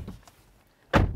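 A 2022 Nissan Patrol V8 door swings shut with one loud, solid thud near the end, following a brief quiet stretch with only faint background noise.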